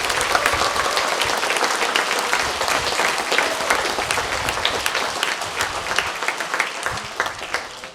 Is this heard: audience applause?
yes